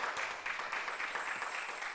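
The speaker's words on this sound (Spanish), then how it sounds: "Denle un aplauso fuerte al Señor" Broadband crackling clatter of a church congregation clapping continuously during a Sunday service, fairly loud and dense, with no voices.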